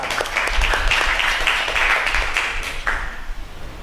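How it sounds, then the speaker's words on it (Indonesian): Classroom audience applauding a student group at the end of an Islamic studies lesson, a steady patter of clapping that lasts about three seconds before thinning out. "Beri aplaus untuk kelompok"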